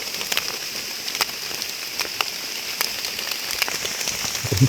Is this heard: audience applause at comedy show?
no